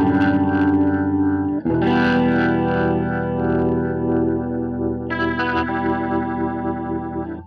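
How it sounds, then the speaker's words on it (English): Clean electric guitar on the neck pickup through a rotary speaker effect, sustained chords with a steady churning wobble and slight grit, restruck twice and played loud throughout with no voices. "that little bit of extra wobble is the rotary sound"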